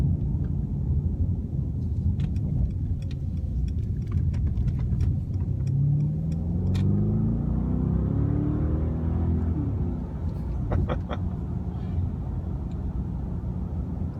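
A 2018 Mercedes-Benz S560 4Matic Coupe engine rumbles as it accelerates hard, a low, rising drone heard steadily from inside the car with faint clicks and road noise over it.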